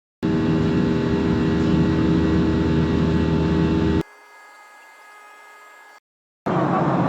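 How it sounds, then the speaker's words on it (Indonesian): Steady, loud broadband roar inside the cabin of a Lion Air Boeing 737 in flight, a continuous engine and air rush that drops to a quieter hiss, cuts out briefly, then returns at full level. "Selamat datang di pesawat Lion Air Boeing 737."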